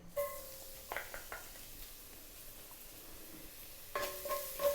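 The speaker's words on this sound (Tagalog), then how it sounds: "Mag-start na po tayo mag-saute ng garlic" Garlic sautéing in oil in a pan, a soft steady sizzle with a few clinking stirs near the start and end, close and fairly quiet with no talking.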